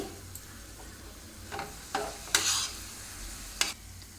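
Grated coconut stirred into sugar syrup for coconut laddu, giving soft scraping strokes with a few sharper clicks of the spoon against the pan, quiet and intermittent with no talking.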